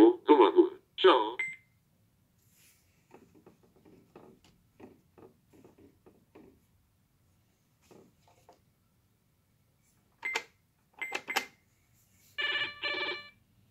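A 1990s Tec Toy Tele Papo toy telephone rings in loud electronic bursts, a pair near the start and several more near the end, with quieter speech between them.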